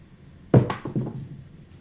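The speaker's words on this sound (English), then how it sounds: "With a little bit of a swing, back swing, dice out" Dice are tossed onto a craps table during a casino game: a single clattering thunk, then a brief rattle as they roll and settle, close and fairly quiet.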